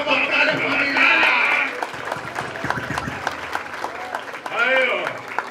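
Crowd clapping and cheering at a Brazilian rap battle semi-final, a dense burst of applause that eases off, then swells again near the end, with voices mixed in.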